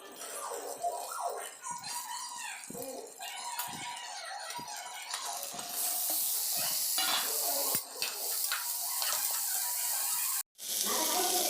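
Green peas and potatoes sizzle and crackle in hot oil as they are stirred in a pan, with occasional scraping and a short break near the end.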